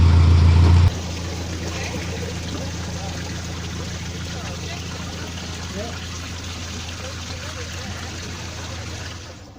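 A narrowboat engine in a narrow canal lock runs gently at low revs, a steady low throb under rushing and trickling water. A brief louder burst comes at the start, then the sound holds even throughout.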